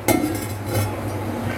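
A metal lid set down on a pot of simmering chicken curry, one sharp close clink and clatter, followed by quiet kitchen background.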